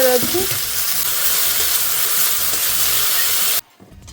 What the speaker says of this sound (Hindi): मैंने 1 टीस्पून हम ऑयल तापरे मशरूम को ऐड कर देती देखो टिके बा सटे कर